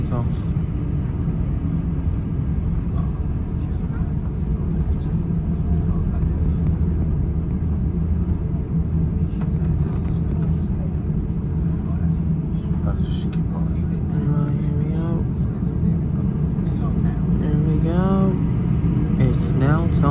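Airliner cabin during the takeoff roll on a flight home from Florida, a steady loud engine rumble and roar that builds throughout, with voices talking over it.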